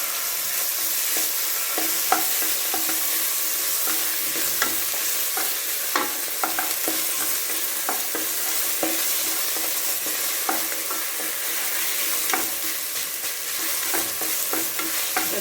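Green chili and ginger garlic paste fry in hot oil for ghee rice and chicken gravy, a steady close sizzle running throughout with frequent sharp scrapes and taps of a spoon stirring the pan.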